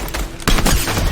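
Video game gunfire in a shooter, a sudden loud burst of rapid shots cutting in after a quieter moment and continuing through the rest.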